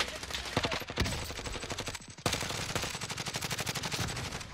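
Rapid automatic gunfire from a video game, dense bursts of rattling shots fired continuously, with a brief break near the middle before the shooting resumes at steady volume.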